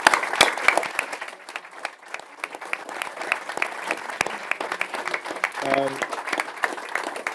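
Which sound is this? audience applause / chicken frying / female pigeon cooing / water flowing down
audience applause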